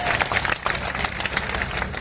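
An audience claps at a Hindi poetry gathering, a kavi sammelan. The applause is dense and steady and fills the whole stretch.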